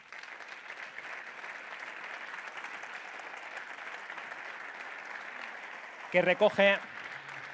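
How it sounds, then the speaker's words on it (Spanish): A crowd at a Spanish artistic swimming awards gala applauds steadily for several seconds, a dense even patter, before a brief spoken phrase cuts in near the end. "pido un fuerte aplauso para ella"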